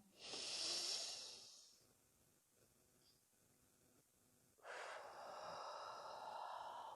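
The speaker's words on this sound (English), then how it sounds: "Breathing it out completely." Deep, audible breaths during a yoga side stretch: a long breathy exhale at the start, a quiet pause, then a second sustained breath near the end, close and soft.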